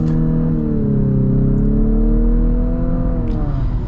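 A turbocharged 2-liter four-cylinder in a 2024 Infiniti QX50 Autograph with a CVT, in sport mode, pulls hard from inside the cabin, a steady loud drone holding a rising, sustained engine note with no talk over it.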